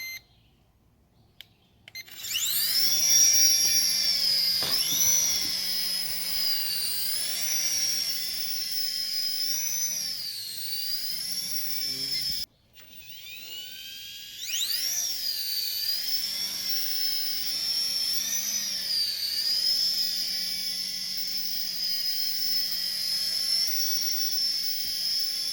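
Small RC Apache helicopter toy taking off, a thin high-pitched electric motor whine that spools up, holds steady, cuts out briefly and rises again, close and continuous with no talking.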